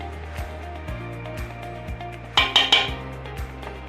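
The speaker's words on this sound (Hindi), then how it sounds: "अब हम इसको कीमे को अच्छी तरीके से इधर उधर हर जगह फैला देंगे।" A spoon scrapes and clinks against a metal pot while keema is spread for keema biryani, with soft repeated taps and a brief cluster of louder metallic clinks under a low, steady background hum.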